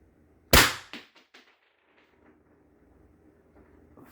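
One loud, close report from an Umarex T4E HDB 68 breech-loaded CO2 air pistol firing a Z-RAM projectile, a sharp crack followed by a few fading echoing knocks and then quiet ambient rumble.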